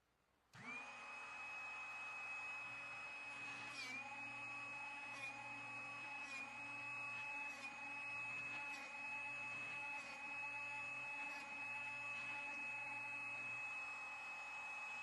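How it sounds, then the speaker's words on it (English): A Drill Doctor 350X sharpener grinds a drill bit, a steady high-pitched motor whine holding constant for many seconds, with faint periodic ticks and scrapes as the bit turns against the wheel. "Now, watch as a bit is aligned, then sharpened."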